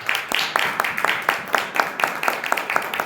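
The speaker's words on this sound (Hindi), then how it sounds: "एक बार फिर से उसकी ताली बजा के तारीफ करें।" A congregation claps together in praise during a church worship service, a steady rhythmic run of sharp hand claps repeating about twice per second, loud and close, with no talking over it.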